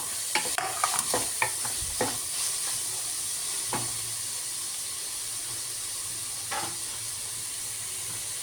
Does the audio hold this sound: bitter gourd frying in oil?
yes